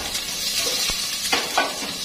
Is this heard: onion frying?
yes